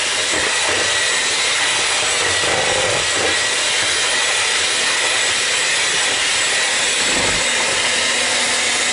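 Banana pudding being mixed in a bowl, heard as a loud, steady, unbroken whirring drone that holds at one level throughout, with no speech.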